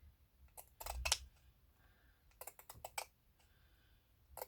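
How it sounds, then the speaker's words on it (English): Scissors snipping a straight cut through fabric for needle-turn appliqué, a few quiet crisp clicks in two small clusters, close by with no talk. "I might give this a straight cut and have it as close as I can with these scissors"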